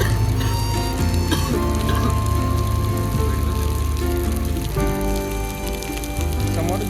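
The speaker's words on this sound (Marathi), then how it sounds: "आता आपण मोठ्याशा पावसात अडकलोय" Heavy rain pours down steadily on a group caught outdoors on the way to a boat, a dense, constant wash of drops lasting several seconds with no clear talk.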